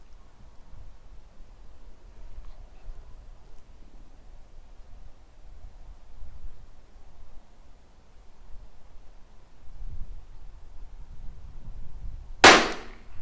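A single sharp crack of a Tikka T1x .22 LR rimfire rifle firing near the end, after a long stretch of quiet outdoor background rumble with no talk.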